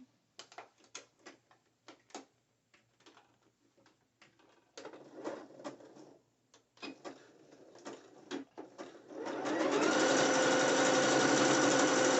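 A sewing machine runs a second line of stitching on a net thong bikini: scattered clicks and brief taps at first, then a loud, continuous motor whir that holds steady to the end.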